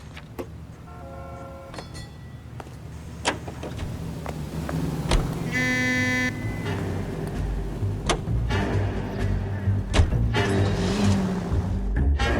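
Car driving in L.A. Noire, a moderate engine rumble running throughout with scattered clicks, knocks and brief tonal chimes layered over it.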